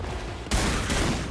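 A shotgun fires in the video game PAPERHEAD, a loud dense burst of blast noise that jumps sharply midway and continues with a second hit shortly after.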